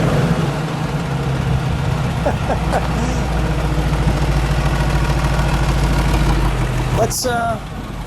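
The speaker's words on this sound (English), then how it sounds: "Give it a bit of a rev. It's a Chevy 350." The Chevy 350 V8 in a 1969 Toyota Land Cruiser FJ40 restomod idles with a steady deep rumble and a brief rev, heard up close while people talk over it.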